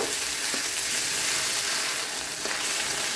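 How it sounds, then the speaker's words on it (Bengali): Chopped onion and ginger-garlic paste frying in a pan for a bitter gourd and fish curry, a loud, dense, continuous sizzle close up with brief stirring scrapes, no talking. "এখন দিয়ে দিচ্ছে পেঁয়াজ কুচি আর দিয়ে দিচ্ছে আদা রসুন বাটা"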